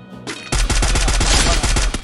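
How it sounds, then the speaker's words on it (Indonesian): Rapid automatic gunfire in the Free Fire battle game, loud bursts of closely spaced shots after a short lead-in, no talking. "Ternyata ada yang nembakin gua dari jauh."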